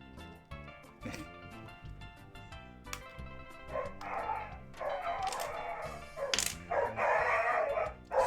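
A dog barks and yips repeatedly at close range indoors, mixing whimpers and howl-like cries in uneven bursts that grow louder toward the end.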